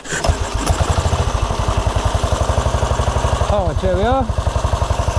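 A 1929 Ariel motorcycle engine fires and runs with a steady, rapid thumping beat close by, while someone speaks briefly over it.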